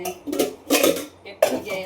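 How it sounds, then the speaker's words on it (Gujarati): Kitchen utensils, dishes and metal pots, clatter in short bursts as they are put away in a home kitchen, with clinks and knocks spread across the moment. "હવે વાસણ બધું ઠેકાણે કરી અને રસોઈ બનાવવાનું કામ ચાલુ કરું"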